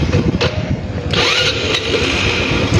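An engine cranks and catches at night, a loud rough rumble with a brief burst of cranking that settles into a steady running roar after about a second, close and without talk.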